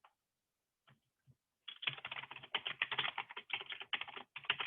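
Rapid typing on a computer keyboard while creating folders in a Linux file explorer: a few isolated key taps, then a dense, continuous clatter of keystrokes with short pauses, close and clear, with no talking.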